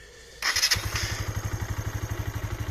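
A 1998 Suzuki GN 125 motorcycle engine cranks and catches with the clutch pulled in, then settles into a steady, throbbing idle close by.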